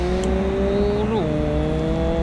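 Engine drone of a vehicle speeding along in Construction Simulator 3 holds a steady high pitch, with a brief shift in tone midway, loud and close, while someone talks over it.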